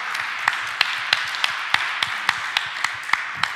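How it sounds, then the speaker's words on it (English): Sparse clapping from an audience at a startup pitch competition final, with distinct evenly spaced claps, roughly three per second, over a low room hum rather than a full ovation. "Applause"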